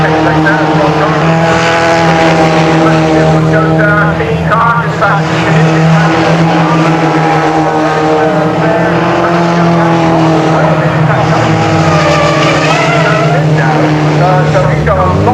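F3 and GT race cars roar around Castle Combe circuit in a continuous loud engine drone with shifting pitch as cars pass and brake into a corner, under steady commentary throughout.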